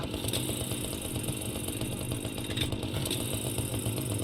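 An engine runs without pause in the horror game Unforgiving - A Northern Hymn, giving a rough, even mechanical drone with a buzzing, rattly texture. It is fairly loud and heard alone.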